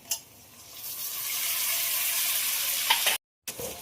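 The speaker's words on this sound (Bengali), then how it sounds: "এবার দিয়ে দেবো কেটে রাখা টমেটো" Chopped tomato is dropped into a hot pan of fried onions for a prawn and pointed gourd curry, raising a steady close sizzle that cuts out briefly near the end before resuming with a clink.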